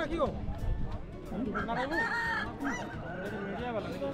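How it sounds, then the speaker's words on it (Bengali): Roosters crow and cluck amid a village cockfight in Bangshadharpur, the calls rising over a dense, noisy crowd with voices talking throughout. "জায়গাটির নাম বংশধরপুর, এখানে মুরগির লড়াই চলছে"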